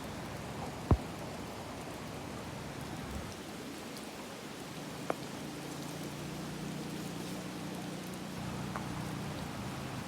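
Steady rain falls outdoors near a mosque, a constant broad hiss of drops on surfaces with a couple of sharp knocks and no voices.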